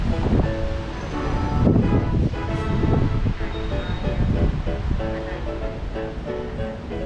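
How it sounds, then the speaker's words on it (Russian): A strong gale roars and buffets the microphone in heavy, continuous gusts during a hurricane in Chelsea, London, with faint tonal hums and a voice buried under the wind. "Ветер просто шикарный."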